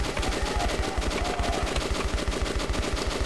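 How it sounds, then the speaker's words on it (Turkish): A dying enemy's gun keeps firing in Metro 2033 Redux, his trigger still held down: one long, unbroken burst of automatic fire, rapid and evenly spaced, close and loud, with no voices over it. "Ölürken parmağının tetikte kalması ve ateş etmesi hala."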